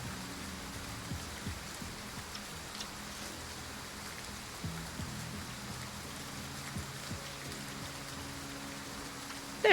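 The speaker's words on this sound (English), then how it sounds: "Night fell, and a sudden downpour engulfed the city." Rain pouring down on a city at night in a video game, a constant heavy hiss with a few faint low thuds beneath it and a brief knock at the very end.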